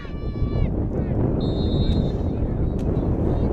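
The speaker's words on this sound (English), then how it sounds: "As the wind starts to pick up here." Gusting wind blows across an outdoor high school football field during a fall game, a broad steady roar with rushing swells, with faint crowd and stadium noise underneath.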